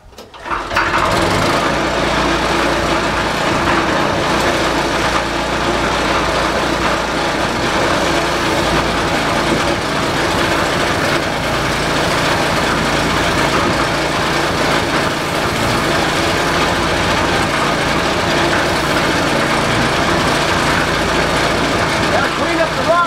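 A petrol engine being worked on during a gas tank cleanup runs at a steady idle, a loud continuous mechanical drone with a buzzing rattle that persists evenly throughout, close to the microphone, with no talk over it.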